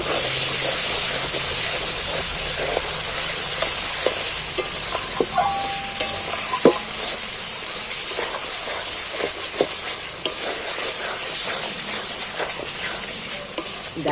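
Onions and sour yogurt sautéing for chicken curry: a dense, steady hiss and sizzle fills the whole stretch, dotted with frequent spatula scrapes and clicks from stirring, close up and without any voices.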